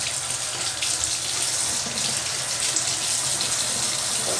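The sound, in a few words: warm water running from a sink faucet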